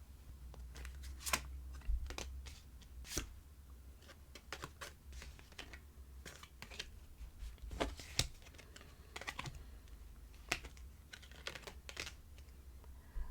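Tarot cards shuffled and drawn for a reading, heard as a run of crisp, close clicks and light snaps at an uneven pace, with no talking.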